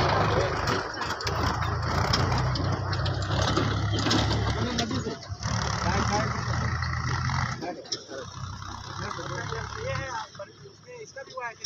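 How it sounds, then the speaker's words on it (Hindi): A tractor drives along empty after hauling illegal sand, its engine running steadily and fairly close throughout, with a voice talking over it for most of the stretch. "देखिए सामने से कैसे ट्रैक्टर जो है जा करके अवैध रेत को जो है परिवहन कर दूसरे जगह जो है बेच करके वापस जो है ट्रैक्टर खाली चला रहा है"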